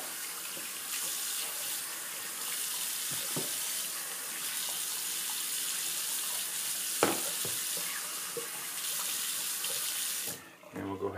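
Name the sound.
tap water rinsing a shaving soap puck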